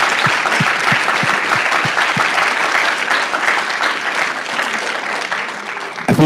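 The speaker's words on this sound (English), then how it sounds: "I figured at a university that would get a lot of applause." A university crowd at a political rally applauds loudly and continuously, a thick roar of clapping hands with a few distinct low thumps early on, fading slightly toward the end.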